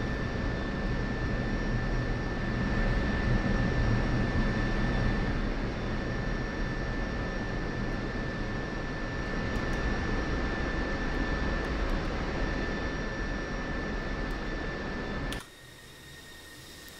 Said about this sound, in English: And there is your Air Force approved air show for the F-16.